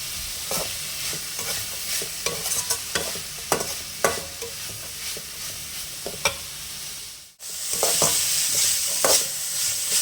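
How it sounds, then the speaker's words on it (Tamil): Vegetables for egg rice fry in a pan while being stirred, a dense sizzle broken by frequent scraping clicks of the spoon, with a brief drop to silence before the hiss returns louder. "நல்லா கிளறி விடுவாங்க"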